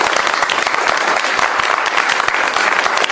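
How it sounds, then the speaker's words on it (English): Dense, loud audience applause from a crowd fills the whole moment, steady and close, with no speech over it. "Let's give her applause."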